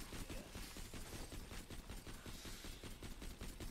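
Gunfire from the video game Borderlands 2, a dense, steady stream of rapid shots running throughout at full loudness with no pauses.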